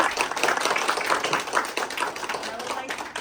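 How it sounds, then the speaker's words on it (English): A crowd applauds kindergarten children at a graduation ceremony in New York, with steady, dense clapping for a few seconds and voices mixed in underneath. "So I want to give you another round of applause."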